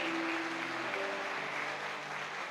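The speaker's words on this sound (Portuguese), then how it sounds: "Vamos aplaudir o Senhor Jesus pela vida desses amados." A church congregation applauds during an evening service, soft continuous clapping heard at a distance with a low sustained organ-like tone underneath.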